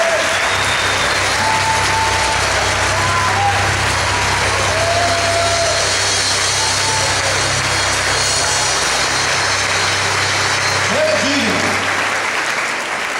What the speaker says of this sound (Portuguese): Aplauda o Senhor por Deus.